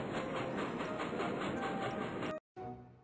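A cartoon train sound effect from the Phonics Island reading app: steady clickety-clack rolling and hissing for over two seconds, a brief cut to silence, then a short resumption.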